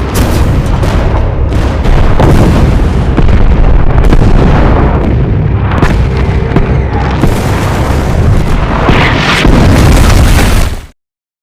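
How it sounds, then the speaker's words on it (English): Artillery fire in a war film battle scene: a loud, dense barrage of booming blasts and bursts, one after another for about ten seconds, with no speech, ending abruptly. "artillery was fired immediately"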